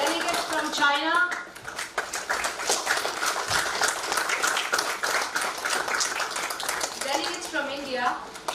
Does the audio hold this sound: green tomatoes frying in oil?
no